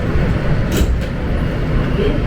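A New York City G subway train rumbles along inside the car, a loud, steady low roar with rattling, alone without talk.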